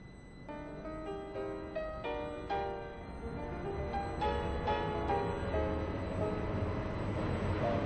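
A four-coach video game train rumbles steadily with a low, continuous roar, while a series of tonal chimes or squeals sound in the first half.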